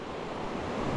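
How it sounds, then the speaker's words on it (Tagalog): A river near Alitap Falls, on the Mauban to Atimonan bypass road, rushes steadily with broad, even noise, close and fairly loud, with no voices. "ito na yung ilog"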